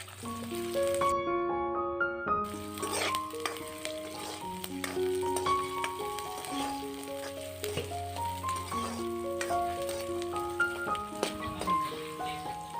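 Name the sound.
onions frying in mustard oil with five-spice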